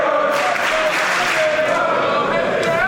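A packed wrestling crowd in London roars and applauds in a steady, loud wash of cheering that fills the whole moment, with a voice faintly underneath.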